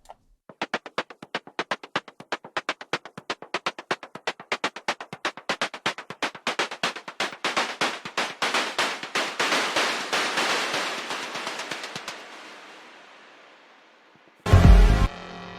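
DFAM and Moog modular noise percussion play together as a fast ticking pulse train that speeds up and swells into a hissing, surf-like wash. After a pause, a short, loud, booming burst follows.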